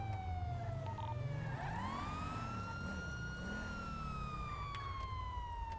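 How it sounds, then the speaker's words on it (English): A police car siren wails in the game GTA V, a steady rising and falling tone close by over a low engine rumble, continuous throughout with no talking. "I got the sirens on."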